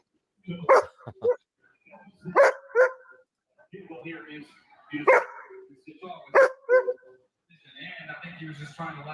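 Dogs bark from a played recording in short, loud doubled bursts separated by pauses, with quieter whimpering and muffled sound between them.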